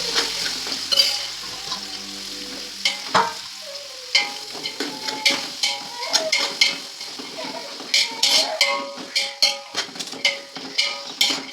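Whole masala spices dropped into hot ghee for Chennai-style chicken biryani, crackling and sizzling loudly up close while a spoon scrapes and clinks against the metal pan.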